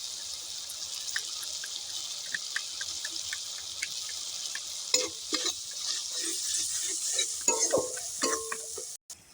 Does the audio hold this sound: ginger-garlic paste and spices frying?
yes